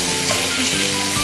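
Chopped onion cooks in butter in a pan, a steady, close, even sizzle with no pauses and no voices.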